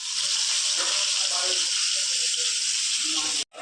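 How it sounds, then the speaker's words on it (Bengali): Fish frying in a pan at a Bengali home during a Dol festival gathering, a steady close hiss and sizzle running throughout with faint voices and movement underneath, briefly cutting out near the end. "আমনি মাছ ভাজা"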